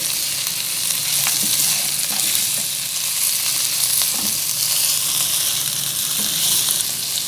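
White cumin seeds stirred into hot oil for a mutton Irani biryani, a steady bright sizzle with occasional soft scraping of the spoon, close and alone.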